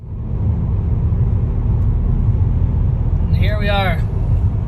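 A Mercedes C300 with a freshly rebuilt transfer case drives with a smooth, low, steady road rumble and little mechanical noise, while someone talks briefly near the end.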